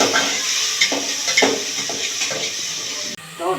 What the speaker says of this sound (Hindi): टमाटर और मटर को मैं एक साथ थोड़ी देर फ्राई कर दूँ